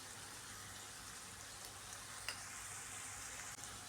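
Green beans and peas sabzi being stirred in a pan, a steady quiet sizzle with a few faint scrapes of the spoon, heard close with no talk.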